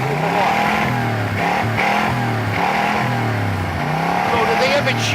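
A 1967 Chevrolet Corvette engine runs loud and close at a car show, rising and falling through several revs with a throaty rumble, while people talk over it.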